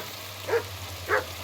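Mutt, a dog in the medieval game Kingdom Come: Deliverance II, gives two short barks about half a second apart over a low steady hum, fairly close and moderately loud.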